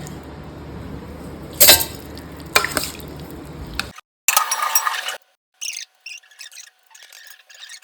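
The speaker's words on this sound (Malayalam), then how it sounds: "ഇനി നമുക്ക് പച്ചരി ഇതിൽ ഇട്ട് കൊടുക്കാം കേട്ടോ" Raw rice grains poured into a steel mixer grinder jar, a few brief rattling, rubbing bursts of grains hitting metal with short pauses between, close and fairly clear, then quieter scattered clicks.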